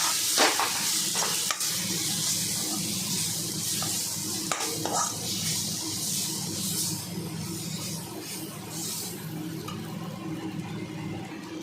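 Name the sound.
prawns being stirred and fried in a pan with spices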